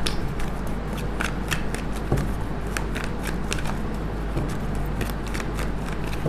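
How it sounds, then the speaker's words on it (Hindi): A deck of tarot cards is shuffled close to the microphone, giving a steady run of papery riffling and flicking with rhythmic snaps, over a low constant hum. "एक ही शफल करेंगे, जिसको आना होगा आ जाएगा।"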